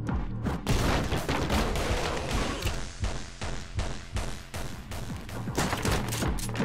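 Rapid gunfire from the first-person action game Anger Foot, a dense volley of loud shots and thuds fired in quick succession, with no one speaking.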